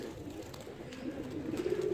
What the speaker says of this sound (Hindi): ये आके बैठ गया कबूतर।